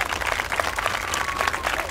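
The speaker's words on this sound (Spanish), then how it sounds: "Házmelo saber con un fuerte aplauso. Fuerte las palmas." Audience applause at a clown show, a dense wash of many hands clapping steadily throughout, with a faint whistle-like tone running through and some crowd noise underneath.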